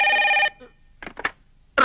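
A telephone rings once in a short electronic burst, followed by a brief quiet gap with faint voices, then the ring starts again, close and clear.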